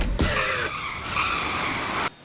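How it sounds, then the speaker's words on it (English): A car skids with a long tire squeal before hitting something, a sharp broadband burst ending abruptly at the close, loud and near, with no talk over it. "Something hitting your car."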